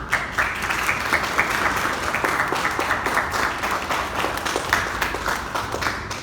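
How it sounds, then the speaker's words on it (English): Sustained applause from a large graduation ceremony crowd, steady and dense clapping filling the space for several seconds with no voices standing out. "join me in giving all of the teachers a round of applause"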